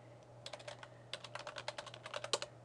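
Someone types on a computer keyboard in quick bursts of close, crisp key clicks, with a short pause before a longer run of typing and a low steady hum underneath.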